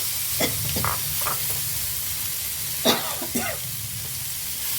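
Horse gram tipped into a hot pan sets off a steady, moderately loud sizzle, with a few sharper bursts of crackle and stirring scrapes partway through. No voices are heard.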